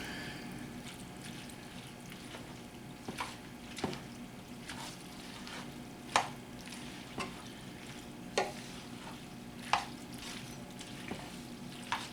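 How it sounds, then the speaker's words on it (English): Hot noodles stirred with butter in a pot, soft wet squishing under a faint sizzle, punctuated by a few distinct spoon clinks against the side. "be sure to stir it very, very good to where all of the noodles gets the butter flavor"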